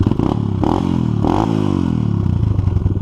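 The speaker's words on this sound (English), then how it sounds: "4 kicks and this thing fired right up" A small pit bike engine runs close by, a loud steady rattling idle with throttle blips that rise and fall, continuous throughout with no talk.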